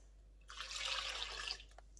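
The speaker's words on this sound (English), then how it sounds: "I'm going to add 400 ml of lukewarm water to this" Lukewarm water is poured into a mixing bowl for chocolate sourdough, a close hissing pour lasting about one second against a quiet background, followed by a couple of faint drips.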